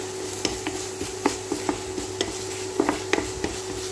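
Garlic and onion fry golden brown in a pan, a constant sizzle punctuated by about a dozen quick, irregular utensil scrapes and taps against the pan, close and with no voices.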